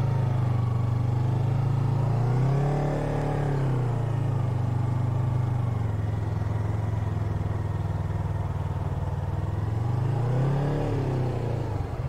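A motorcycle idles and moves through a slow U-turn from a stop. The engine hums steadily and fairly close, swelling with a gentle rev near the start and again near the end, with no talking.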